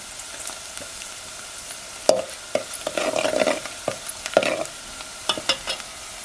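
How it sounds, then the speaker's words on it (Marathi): Onion frying with curry leaves in a pan over a wood-fired village stove, with soft sizzling and several distinct stirring scrapes and clinks over about six seconds. "कढीपत्ता घालून घेते कांदा भाजतो भाजतोय"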